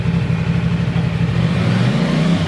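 A 2025 CF Moto 450 SR-S motorcycle engine revving up close, a loud, steady, throbbing drone that rises slightly in pitch toward the end, with no voices.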